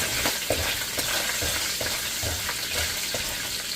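Garlic sizzles and crackles in hot oil in a pan while cooking pork pochero, a loud close frying hiss with regular scraping stirs throughout, and no voices.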